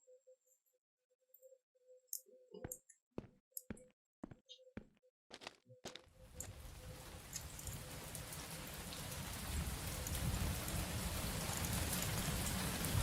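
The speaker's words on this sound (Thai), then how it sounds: "ฝนตก" Rain in the video game Monbazou, first a series of sharp knocks and thuds, then a steady wash of rainfall that swells and grows louder until the end.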